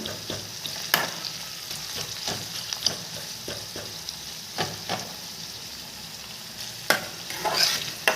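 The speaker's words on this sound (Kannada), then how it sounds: "ಇವಾಗ ಅದನ್ನು ಹಾಕಿ ಆಡಿಸ್ತಾ ಇದ್ದೀನಿ" Chopped coriander and curry leaves sizzle and fry in a pan, with a steady low crackle broken by scraping strokes of a stirring spoon at irregular intervals, close and moderately quiet, no voices.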